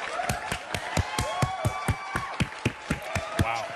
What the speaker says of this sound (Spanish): ¡Aplauso! ¡Aplauso, por favor!